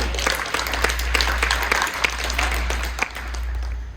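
Audience at an 89th birthday party in East Lansing, Michigan applauding after a magic trick, a steady crowd clapping with a few sharper claps near the front and a low hum underneath.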